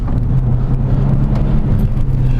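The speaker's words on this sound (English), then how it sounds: "The engine is so smooth." A 2001 Porsche 996 Carrera engine hums steadily and smoothly from inside the cabin while driving, a low even drone with faint road noise and no talking.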